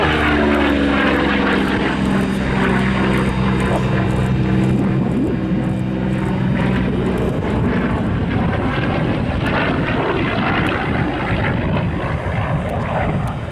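A Vought Corsair IV fighter in Fleet Air Arm 1850 Squadron colours runs its propeller engine. The loud, continuous radial drone fills the whole stretch with a deep, throbbing roar and wind rush.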